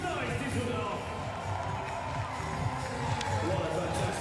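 A big indoor crowd at the 2023 Invictus Games in Düsseldorf cheers around center court, a steady loud roar that lasts throughout with an announcer's voice over it.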